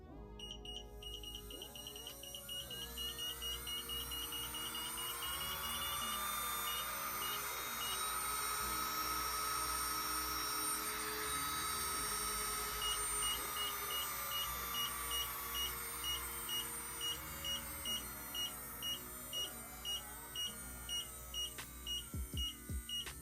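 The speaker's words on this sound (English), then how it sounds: "I'm going to show y'all how the drill sounds turned on." A MelodySusie 2 in 1 electric nail drill runs steadily with a high-pitched whine that ramps up, holds, then settles into a pulsing rhythm near the end, close and clear, with no talking.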